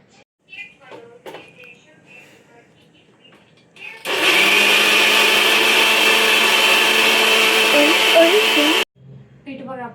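A mixer grinder runs loud and steady for about five seconds, grinding soaked dal and rice, with brief talk before it starts and after it stops.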